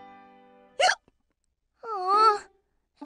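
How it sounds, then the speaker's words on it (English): Cartoon character hiccupping in a children's animated show: a sharp single hiccup near the start, then a longer wavering voiced sound and another hiccup onset at the end, clear and close with no talk. "I don't think my hiccups are the kind that get scared away."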